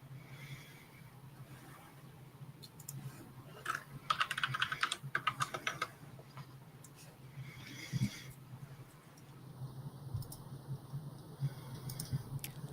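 Typing on a computer keyboard, heard as a quick burst of clicking keystrokes in the middle and scattered taps later, moderately close, over a low steady hum.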